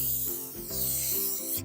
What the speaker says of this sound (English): I spray it with Pam just to stick.